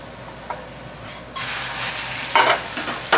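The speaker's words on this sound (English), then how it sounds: "we're going to flip the potato over, and then we're going to cook it a little more" Potato frying in a pan: a soft sizzle that swells louder partway through, with a couple of brief scrapes and clatters as the potato is turned.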